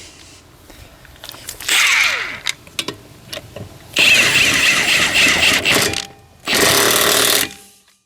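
A Kobalt 24 volt cordless impact wrench loosens a lug nut, sounding three loud, harsh rattling bursts of hammering with short pauses between them, close by and with no talk.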